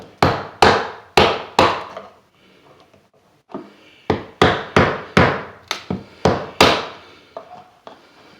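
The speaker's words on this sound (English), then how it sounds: "Now I'm going to take this chisel." A hammer drives a chisel into wooden door casing trim in sharp, loud, close blows, first four quick strikes, then a pause with soft handling noise, then a faster run of about eight more.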